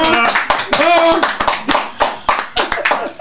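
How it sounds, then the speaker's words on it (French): Sharp, irregular hand claps from a small group in a theatre audience, distinct individual strikes under lively talk and laughter from performers and children's voices. "C'est le fan club qui applaudit"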